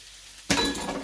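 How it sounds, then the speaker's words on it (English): Hot sausage dropped into a frying pan, a sudden bright burst of sizzling after a quiet start that settles into a steady crackling fry, close up with no voices. "So I'm throwing the hot sausage, get that nice and ready."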